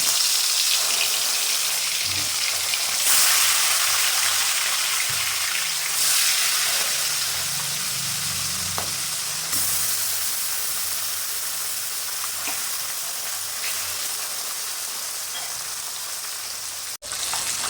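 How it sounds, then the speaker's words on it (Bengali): Bata fish frying in oil in a kadai give off a steady, dense sizzle that holds at an even level throughout, with faint pops and clinks scattered in and no voices. "কড়াইয়ের মধ্যে একটা একটা করে বাটা মাছ দিয়ে দিলাম।"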